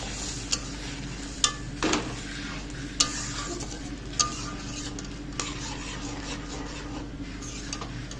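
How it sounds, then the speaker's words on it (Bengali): A ladle stirs pre-boiled greens and dal into a pan with fried garlic, giving soft scraping and clinking strokes with a few sharper knocks against the metal over a low steady simmer. "ভালো করে ফুটিয়ে শাকগুলোকে না আমি হাতায় করে ভালো করে ঘেটে তারপরে নামাবো"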